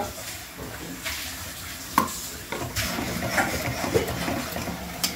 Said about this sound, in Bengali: এবার আমি গ্যাসটা বাড়িয়ে এটাকে কষিয়ে নেব